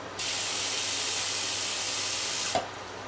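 A tap hisses steadily as water sprays out for a few seconds while rinsing almonds for almond milk, then cuts off with a small clunk.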